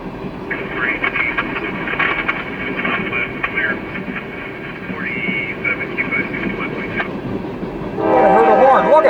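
A loud freight train rumbles past nearby during a blizzard, and a train horn blares near the end over the continuous rolling wheel noise.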